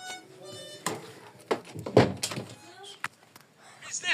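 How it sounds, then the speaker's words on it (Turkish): A door shuts indoors with a few brief thuds among children's chatter and other household noise. Speech runs through most of the moment, and a louder knock lands about midway. "Kapıyı kapat. Kapıyı kapat."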